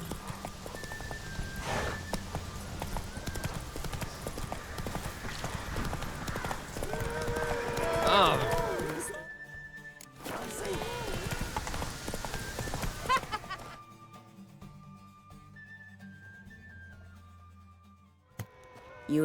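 Horse hooves trotting in The Witcher 3: Wild Hunt, a steady rhythmic clip-clop up close, with game voices and music mixed in before the hoofbeats fade near the end.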